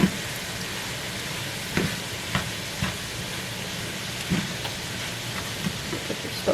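Minced garlic sizzles in a hot pan with a steady crackling hiss broken by a few faint clinks and stirring taps, close up, with no talking.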